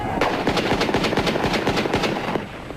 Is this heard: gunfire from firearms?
yes